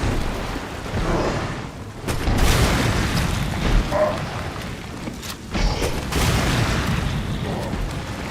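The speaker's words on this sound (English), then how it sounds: "Grenade launcher is definitely key in this fight." Grenade launcher blasts in a Resident Evil 7 boss fight against Jack: loud, rumbling booms, with a big burst around two seconds in and another near five and a half, over continuous low game noise.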